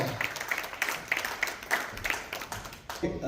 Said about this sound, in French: Applaudissez plus fort.